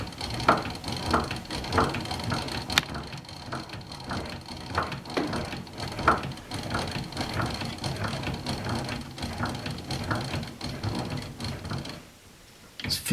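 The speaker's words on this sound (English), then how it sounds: "you have to wind up the gramophone using this crank handle" An HMV 125 gramophone's spring motor being wound with its crank handle, a steady series of rhythmic ratcheting clicks repeating close by, slowing briefly before a short pause at the end.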